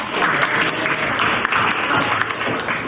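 A class of students clapping together during a chemistry lesson, continuous close applause with a few sharper individual claps standing out.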